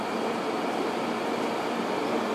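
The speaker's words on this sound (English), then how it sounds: "So just a quick ride on this train." An old London Underground train runs on the line near Queen's Park, a constant loud rolling rumble and broadband rail noise filling the carriage, with no talk.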